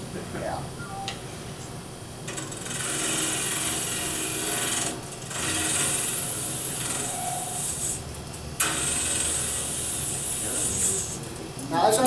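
Pewter collar, threaded, being cut on a wood lathe, a steady broadband scraping rasp from the tool on the spinning metal that runs almost the whole time, with slight swells and dips in level and a few brief knocks.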